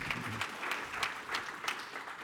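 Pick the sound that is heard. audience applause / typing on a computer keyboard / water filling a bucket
audience applause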